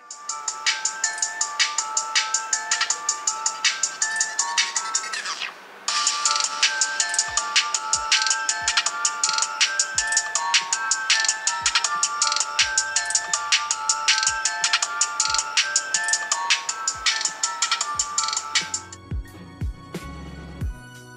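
A ringtone melody plays loudly and continuously for about nineteen seconds through the speaker of an HTC Dream (T-Mobile G1) phone, with a brief gap near the start, then ends in a few handling clicks.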